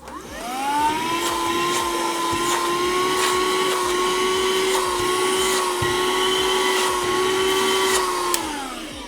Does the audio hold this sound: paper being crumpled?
no